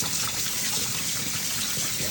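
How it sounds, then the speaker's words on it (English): Cold tap water runs in a steady, even gush over cooked shrimp for Jamaican-style shrimp pasta, a continuous rushing stream with no talk. "So roll cold water over it."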